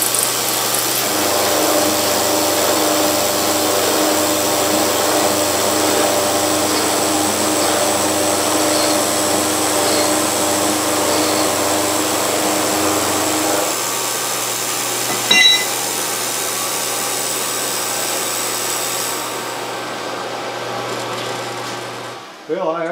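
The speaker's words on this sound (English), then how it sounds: "took a roughing mill, quarter inch roughing mill, and cut the end off in my mill" A milling machine with a quarter-inch roughing end mill cutting the end of steel stock in a vise: a loud, steady, close grinding hum that shifts lower partway through, lasts over twenty seconds, then stops.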